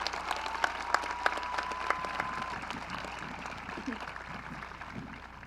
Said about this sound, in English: Let's give our guests a round of applause.